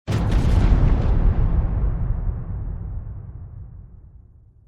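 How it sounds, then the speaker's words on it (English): A single loud explosion bursts out at once with a deep booming roar, then rumbles and slowly fades away over several seconds. "So this is just an explosion effect"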